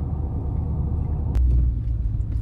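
Trucks parked out on a lot rumble low and steady nearby, a deep engine drone with a brief thump and a louder swell partway through.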